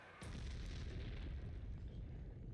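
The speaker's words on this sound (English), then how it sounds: "I love how he just explodes." An explosion in the game Sonic X Shadow Generations: a sudden loud boom that hits at once and rolls on as a sustained, rumbling blast with no talk over it.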